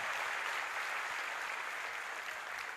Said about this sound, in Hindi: एक बार जोरदार ताली बजा के पूज्य महाराज जी को धन्यवाद दो